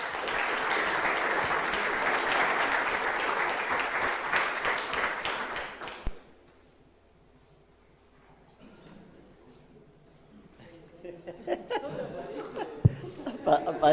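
An audience applauds at the close of a talk at a citrus-growing field day: dense, steady clapping for about six seconds that stops abruptly, followed by a quiet room with faint rustling and a few soft knocks.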